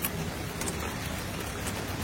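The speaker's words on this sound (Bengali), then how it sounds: "খুব জোরে বৃষ্টি পড়ছে দাদা" Heavy rain pouring down as a dense, steady hiss and roar that fills the space evenly, with no talk.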